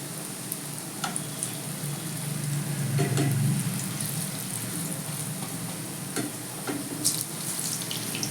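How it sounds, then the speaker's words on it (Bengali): Raw green banana kofta balls fry slowly in oil over a low gas flame. A steady, moderate sizzle with soft crackles and occasional light clinks runs close by, with no talking. "গ্যাসের ফ্লেমটা লো করে দিয়ে ভাজলে ভেতরটা কিন্তু কাঁচা থাকবে না সম্পূর্ণটাই ভালোভাবে ভাজা হবে"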